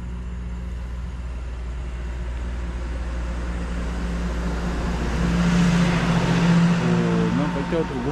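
A car approaches along a road at night, its engine and tyre noise swelling from a low rumble to a louder pass with a rising hum, while people talk nearby.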